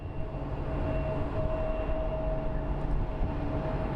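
A CRJ jet's engines at an airport produce a steady, broad roar with a faint whining tone, continuous and moderately loud, with no voices.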